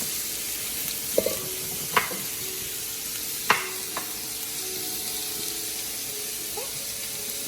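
Vegetables cook down in a pan for lasagna, giving a steady soft sizzle throughout, broken by a few sharp clinks and knocks of a utensil against the pan.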